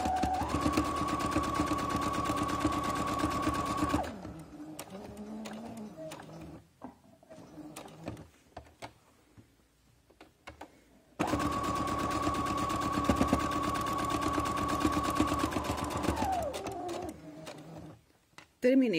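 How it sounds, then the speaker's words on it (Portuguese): Sewing machine stitching a securing seam around a patchwork triangle, two long runs of steady motor whirring and rapid needle clatter separated by a quieter gap of handling sounds. "vou costurar, começar a costurar agora a costura de segurança em volta do triângulo"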